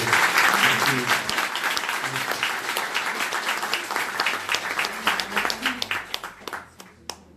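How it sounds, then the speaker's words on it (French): Dense audience applause at a conference on dreams, loud and sustained from the start, then thinning into scattered claps and fading out near the end. "je voudrais quand même qu'on applaudisse quand même Chantal."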